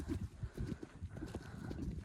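A horse working on a lunge line over poles in a riding arena, its hoofbeats thudding in a steady, close, repeated rhythm that runs through the whole stretch with light background noise.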